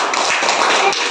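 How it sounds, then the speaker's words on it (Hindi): Children in a classroom applaud together for a classmate after a quiz answer, a short dense burst of clapping that fills the moment with no talk over it. "ताली बजा दीजिए एक बार"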